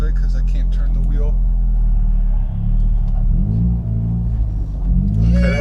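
A 500whp Mitsubishi Evo X accelerates hard with a deep rumbling engine close up inside the cabin, the pitch climbing through several gear pulls, while people talk over it.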